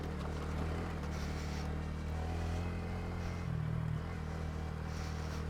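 A Honda Grom motorcycle with off-road modifications rides a rough byway, its engine a steady droning hum with wind rush and small shifts in pitch.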